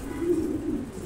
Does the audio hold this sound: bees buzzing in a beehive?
no